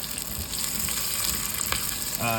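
Onions sauteing in a soup pot for a chicken and veggie soup, a steady close sizzle and hiss of frying with a faint stir scrape near the end.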